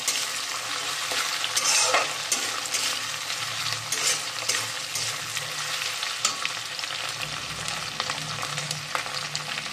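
Food frying in oil in a pan, a steady sizzle broken by frequent clatters and scrapes of stirring, close and moderately loud with no voices.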